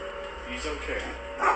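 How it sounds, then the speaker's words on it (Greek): A dog barks faintly in the distance, a few short barks buried in steady background noise. "ακούτε το σκυλί που γαυγίζει"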